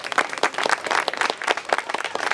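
A small group of club members claps for newly welcomed members in a lively burst of applause, with dense, uneven hand claps filling the whole stretch at close range.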